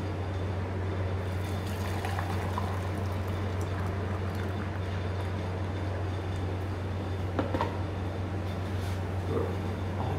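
Water pours steadily into a V60 pour-over coffee brewer, a continuous soft splashing hiss over a low, constant hum, with no talking.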